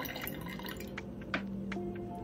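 Water drips and trickles into a sourdough starter before it is fed with einkorn flour, faint splashy drops over a steady indoor background.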